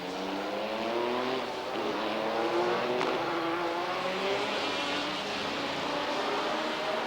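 A GT race car from the 1997 FIA GT round at the Helsinki street circuit drones past with a steady, loud engine note that rises in pitch as it accelerates, continuous throughout with no talk.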